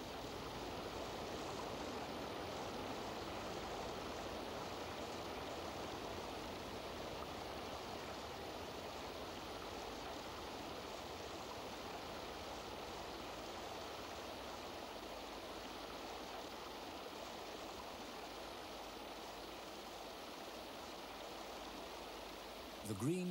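A mountain stream rushes steadily and evenly at a moderate distance, a continuous broadband flow with no breaks, and a short sharp knock at the very end.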